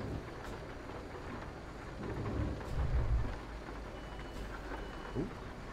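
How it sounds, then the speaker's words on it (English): Rain and thunder in the Euro Truck Simulator 2 driving game on a UK road: a steady hiss of rainfall with low rolling thunder swelling briefly in the middle, fairly quiet. "I've set it to a more frequent rain"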